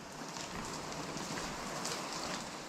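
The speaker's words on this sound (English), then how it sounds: "Nasty rainy day today." Steady rain falls outdoors on a wet day, a faint, even patter that continues without break.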